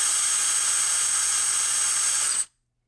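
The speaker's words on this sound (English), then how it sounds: "spin your motor as fast as your drill will go." A power drill spins a small BLDC motor at full speed, a loud, steady high-pitched whine that holds for about two and a half seconds before cutting off abruptly into silence.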